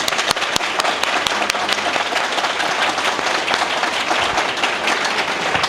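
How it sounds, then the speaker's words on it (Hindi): Audience applause at an anti-drug seminar welcoming an advocate, full and energetic, with sharp close claps punctuating a thick, continuous wash of clapping from a crowd, sustained at steady loudness. "मैं लुबना एडवोकेट साहबा को भरपूर तालियों से वेलकम करता हूँ"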